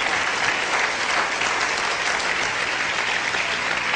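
A church congregation claps for several seconds, broad continuous applause from many hands at an even level, with no voice rising above it.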